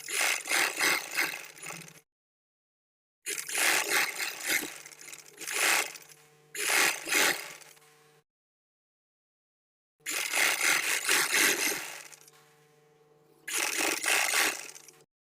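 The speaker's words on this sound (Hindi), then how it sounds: "सिलाई हमने लगानी है इस कपड़े के किनारे पर" A sewing machine stitches along the fabric edge of trousers, attaching elastic, in several bursts of a few seconds of rapid rattling with short silent pauses between runs.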